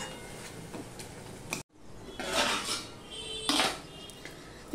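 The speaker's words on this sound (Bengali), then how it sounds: "সমানে এইভাবে আমি নাড়তে নাড়তে জলটাও শুকিয়ে ফেলবো আর টমেটোটাও পেস্ট করে ফেলবো" Tomatoes stirred in a pan until their water cooks off, close scraping and clinking of a spoon against metal in a few bursts, with a steady background hiss.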